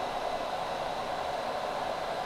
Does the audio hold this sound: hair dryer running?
yes